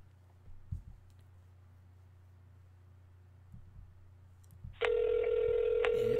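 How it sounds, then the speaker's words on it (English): A phone call rings out over a line after a quiet stretch, a steady loud ringback tone beginning near the end and holding to the close. "It's ringing."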